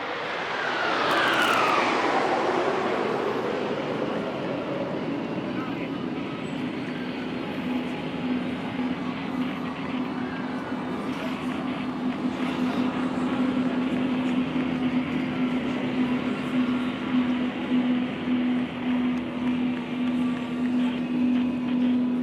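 Indian Air Force Suryakiran aerobatic jets roar overhead at a Chennai Marina air show, a loud, continuous, broad jet rumble that swells with a falling pitch as they pass, then holds a steady drone.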